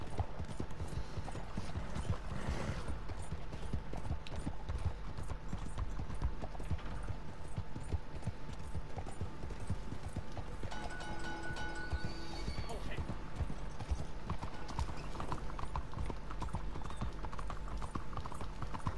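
Horse hooves clip-clop at a steady walking pace through a small town in Red Dead Redemption 2, continuous and fairly close, with game ambience and someone talking over it at times.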